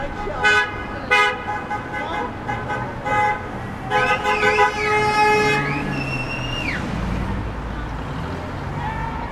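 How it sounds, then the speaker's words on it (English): Car horns honking repeatedly on a busy city street during a street protest, several short toots then longer blasts close by over steady traffic noise and voices talking in the crowd. "There is a car coming too close."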